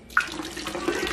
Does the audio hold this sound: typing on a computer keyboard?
no